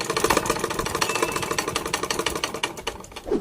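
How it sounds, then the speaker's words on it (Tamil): A sewing machine runs a slow straight seam through fabric, its needle making a rapid, even chatter of close mechanical pulses over a motor hum. "இப்படி வச்சுட்டு அப்படியே அது மேலே தையல் போட ஆரம்பிச்சிருங்க. மெதுவாக ஸ்ட்ரெயிட்டாக தையல் போடணும்."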